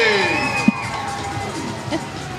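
A crowd at a Grey Cup and Santa Claus parade cheers and shouts steadily, with children's voices and scattered whoops mixed into a continuous outdoor roar.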